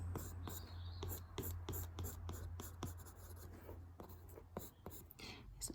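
Close, soft scratchy strokes of a pencil sketching hair on paper for a portrait, short repeated marks in an uneven rhythm, quiet and intimate with no voice over them.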